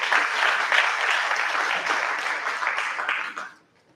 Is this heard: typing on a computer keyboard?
no